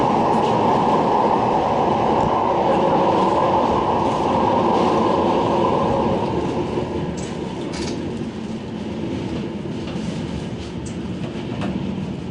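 A Manchester Metrolink tram runs along the former South District Railway alignment, a loud steady rumble of wheels on rail that holds for several seconds and then eases slightly as it moves off, with faint clicks and no voices.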